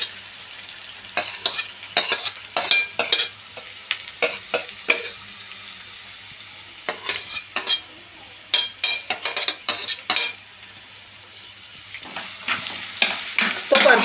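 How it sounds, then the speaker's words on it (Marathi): Chopped onion sautéing and stirred in a pan for Marathi-style fenugreek (methi) bhaji, a steady crackling sizzle broken by frequent scraping stir strokes, close and moderately loud with no talking. "साधारण 2 मिनिटं परतून घ्यायचा, गुलाबी रंग येईपर्यंत।"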